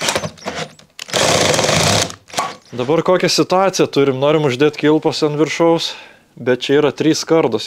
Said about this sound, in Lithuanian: jau prasigrėžiam